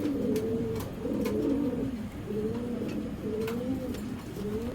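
Female pigeons cooing in a loft cage, a steady run of low, rolling coos repeating in rhythmic phrases close by, with no talk.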